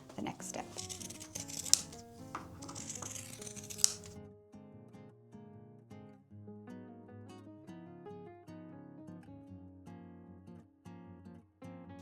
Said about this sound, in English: So I'll just turn it back inside out, trim down the seams